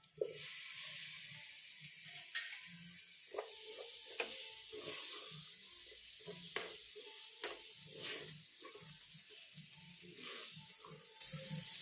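Chopped tomato added to fried ground spices softly sizzles continuously in a pan, with occasional light clinks and stirring sounds, fairly quiet and close.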